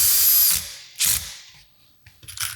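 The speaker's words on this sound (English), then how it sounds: "Then you can just drive the screws home." A cordless drill with its clutch set drives screws into a wooden bench through pilot holes, giving short, close bursts of whirring motor noise with a brief pause between them and a faint ratcheting at the end.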